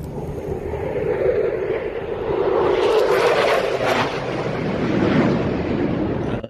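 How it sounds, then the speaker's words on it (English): A jet roars overhead, a broad whooshing rumble swelling and easing over several seconds, blended with wind noise on the microphone. "Oh, it sounds like a jet."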